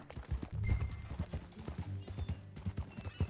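Horse hooves clip-clop in a steady rhythmic gait in Red Dead Redemption 2 on PS4, close and clear with faint mechanical noise, and no one speaking.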